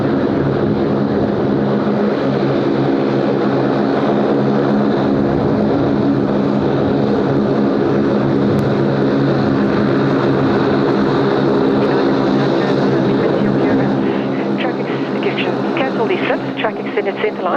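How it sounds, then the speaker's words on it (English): A China Southern heavy airliner starts its takeoff roll at Sydney Airport, producing a loud, steady roar of engines throughout, with voices and radio chatter over it. "China Southern just starting to roll."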